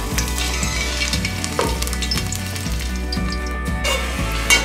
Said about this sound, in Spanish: En esta cacerola vamos a quemar un poquito de ajo